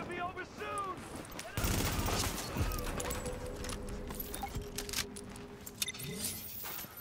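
Rapid gunfire from the video game The Division, loud bursts of shots and metallic clatter packed into a busy fight, with someone talking over parts of it.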